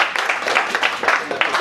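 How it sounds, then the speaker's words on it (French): Audience applause at a crêpe-eating meet-up, a steady wash of many hands clapping with voices mixed in the crowd noise. "Bravo, on applaudit."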